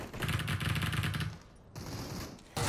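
Rapid automatic rifle fire from the Super People battle royale game, an M16 firing fast bursts of shots, a pause, then another stretch of rattling fire, close and loud.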